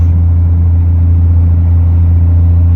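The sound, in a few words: green 1995 Dodge driving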